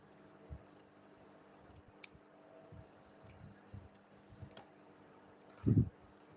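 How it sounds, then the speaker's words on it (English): Scissors trim fabric along the side of a sewn school bag, making sparse soft snips and clicks close up, ending with a louder thump-like handling noise. "I will now trim the remaining side out."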